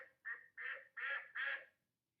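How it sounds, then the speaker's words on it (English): A duck quacks five times in a steady rhythm, each call nasal and clear, close and alone. "duck."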